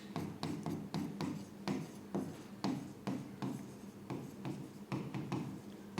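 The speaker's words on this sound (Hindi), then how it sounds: "तो देखो कैसे लिखेंगे" Pen writing on paper, a close steady scratching with quick strokes and taps in an irregular rhythm, continuous and fairly quiet with no talk.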